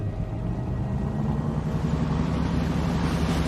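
Ship engines starting up in a radio drama sound effect, a deep, steady rumble and drone that slowly builds in loudness, heard alone without voices.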